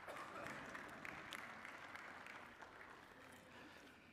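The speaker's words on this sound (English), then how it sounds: "You can clap for Jesus." A church congregation claps together steadily, a soft continuous patter of many hands heard from a distance, with faint background murmur.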